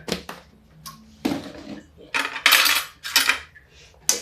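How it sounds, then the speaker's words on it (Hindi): A spoon mixing chokha in a pot, bright irregular metallic scrapes and clinks in bursts, some louder and ringing, close by with quiet gaps between. "तो इसको हम मिक्स कर देते हैं अब स्पून से।"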